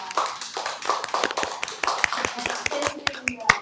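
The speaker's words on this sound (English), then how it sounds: "give our brother Danny applause" Scattered applause ripples through a small gathering at a service with sound healing, uneven individual claps tapping in a loose, irregular rhythm, close and moderately loud.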